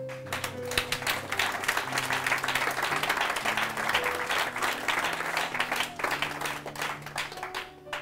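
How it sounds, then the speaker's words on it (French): An audience breaks into sustained applause at a talk, dense clapping from many hands filling the hall at steady loudness throughout, with a faint voice barely present beneath it. "Ton acclamation m'a manqué."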